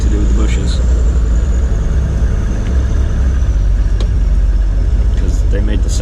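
A Land Rover Defender Td5 rolls over potholes, its engine rumbling steadily up close while the springs creak and the body knocks in brief thuds; a voice talks over the drive.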